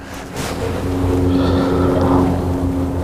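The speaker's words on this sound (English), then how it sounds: "I boated up here to Andy's house, which is just right up here." A boat on Lake Taneycomo, its steady motor drone running close and continuous under wind noise across the water, with no talk.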